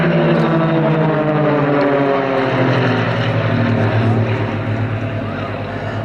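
Propeller-driven Yak and Extra 300 aerobatic aircraft performing at an airshow, a loud sustained engine drone that rises and falls in pitch as the planes pass overhead.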